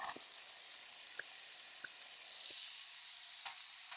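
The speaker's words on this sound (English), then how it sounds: "Nothing beats the smell of fried onions and garlic, let me tell you." Minced onion and garlic fry in a pan with a steady, bright sizzle, close and even throughout, broken by a few faint clicks and taps of stirring.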